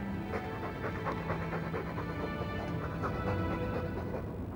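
Dog panting steadily in Dragon Age II, a rapid rhythmic breathing loop that runs the whole stretch over a constant game ambience, fairly close and even in level.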